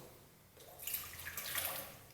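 Warm water poured from a cup into a bowl while making homemade bread dough, a soft splashing pour rising after a brief quiet start and running steadily to the end.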